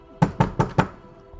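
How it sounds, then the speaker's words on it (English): Four evenly spaced knocks on a door, sharp and close, followed by quiet; no talking. "I think he kind of knocks a little awkwardly."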